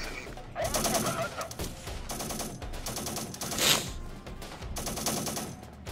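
Sustained automatic gunfire from a battle in the PC war strategy game Syrian Warfare: Return to Palmyra, dense overlapping bursts and volleys rolling continuously at close range with a sharper crash in the middle.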